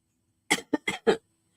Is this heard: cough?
yes